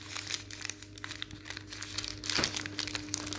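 Paper wrapping of a kebab roll being unwrapped and crumpled up close, a continuous dense crinkling and rustling with small tearing bursts throughout, no talk.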